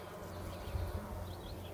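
Honeybees hum in a low, continuous drone from the open brood chamber of a 10-frame hive, heard close and fairly soft.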